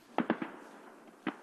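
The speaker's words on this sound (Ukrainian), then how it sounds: "як і раніше, гримлять постріли." Gunshots ring out at a front-line army position in Donetsk region: a quick burst of three sharp cracks, then a single shot a moment later, distant and faint with no talk.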